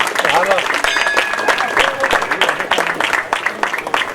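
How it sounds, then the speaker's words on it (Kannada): Audience applause at a free health camp, honouring doctors: dense, steady clapping from a crowd filling the whole moment, with a voice speaking over it. "ದಯವಿಟ್ಟು ಎಲ್ಲರೂ ಚಪ್ಪಾಳೆ ತಟ್ಟಬೇಕು"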